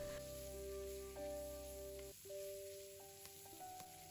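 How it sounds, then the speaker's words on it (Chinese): Cabbage stems stir-frying over high heat in a wok with chili oil, a steady close sizzle and crackle with no talking. "我们这里一定要开大火炒，把包菜硬心给它炒香炒熟。"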